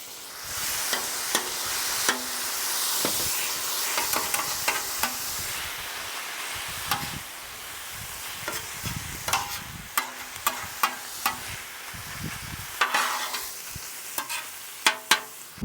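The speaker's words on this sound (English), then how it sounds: "All right, once our onions are cooked, we'll be able to move our ribeye over." Ribeye steak and onions frying on a flat-top griddle, a continuous hiss of sizzling fat under repeated metal spatula scrapes and taps that grow sharper toward the end, close and fairly loud, no talking.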